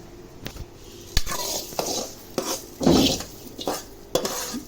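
Coriander seeds being roasted for homemade rasam powder are stirred in a pan with a metal spoon, giving repeated scraping rustles and sharp clinks against the pan at an irregular rhythm.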